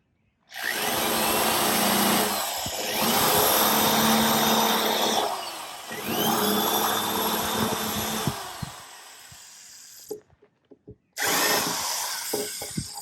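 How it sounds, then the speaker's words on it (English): A power drill recesses a hole in wood for a nut during trailer repairs on a 1980 Com-Pac 16 sailboat. It whines loudly in several long runs with brief dips in speed, then stops, and a few clicks follow before it starts again. "Basically, I'm just recessing a hole big enough for a nut to fall into"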